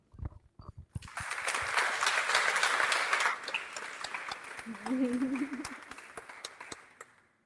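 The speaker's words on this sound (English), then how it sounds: "give them a huge round of applause" A conference audience breaks into sustained applause for a hackathon team, a few scattered claps swelling into a full room of clapping that tapers off, with a voice speaking briefly partway through.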